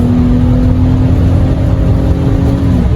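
Loud car engine revving steadily through third gear on a rainy highway, a continuous droning roar with a sustained tone that holds for about three seconds before dipping as the driver shifts toward fourth.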